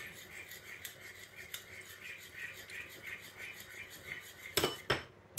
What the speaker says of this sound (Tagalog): Mix natin ng maayos.